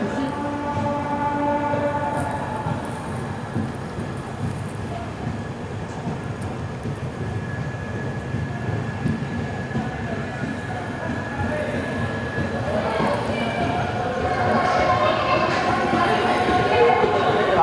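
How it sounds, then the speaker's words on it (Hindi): Mumbai–Ahmedabad Double Decker Express, train 12931, departing Nadiad Junction: a steady low rumble of rolling coaches that grows louder and rougher toward the end, with faint voices under it. "8:31 पर हमारी ट्रेन निकली है नडियाड जंक्शन से।"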